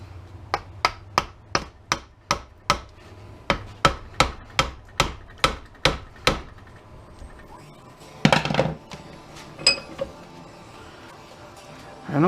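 Repeated sharp hammer strikes tapping a part of a circular fluorescent light ballast held in a vise, about fifteen evenly spaced metallic blows close up, followed by scraping and a few irregular knocks.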